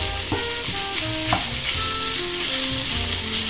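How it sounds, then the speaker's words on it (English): Sausage meat for sweetcorn penne fries in a pan with a loud, continuous sizzle up close, broken by a few quick spatula scrapes as it is stirred. "We're going to let our sausage meat cook for around 5 or 6 minutes,"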